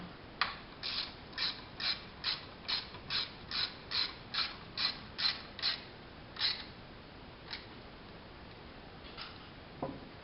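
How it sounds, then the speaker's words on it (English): A ratchet snugs 8mm screws on engine guard bars fitted to a BMW R1200 RT motorcycle, giving a quick run of about a dozen even, near clicks, then a few sparse single clicks. "Now we're going to snug up the 8mm screw on top here and the bottom."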